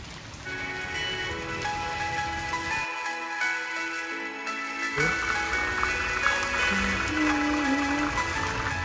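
Heavy rain pours steadily in a village setting, a dense continuous patter on surfaces that briefly drops away before resuming at full strength.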